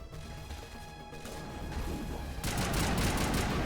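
Gunfire in Mass Effect Legendary Edition swells into a loud, dense crackling volley after a quieter stretch of humming ambience, sustained and close once it kicks in.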